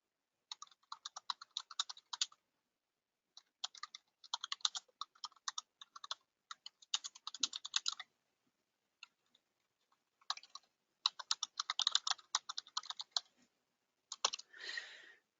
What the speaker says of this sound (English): Just answering a quick question here by typing